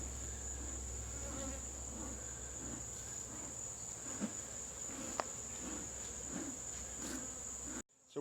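Dense, steady buzzing of many honey bees swarming close by at an open hive, a continuous high drone with occasional louder passes near the ear, ending in a brief rustle.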